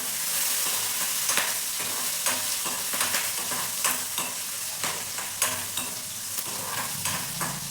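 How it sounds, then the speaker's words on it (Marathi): Oil sizzles steadily in a pan while a spoon stirs, giving regular scraping clicks over the constant frying hiss. "मिरची व्यवस्थित भाजलेली आहे"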